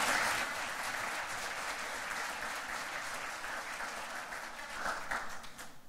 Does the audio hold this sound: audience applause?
yes